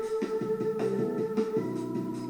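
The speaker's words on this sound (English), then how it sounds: "I've got like some drums. I got the bass, and I had this lead piano and some organs in the" Music mix of a track in progress, with drums, bass, a lead piano and organs playing together: steady sustained organ-like tones over a bouncing bass line, moderately loud, with no voices.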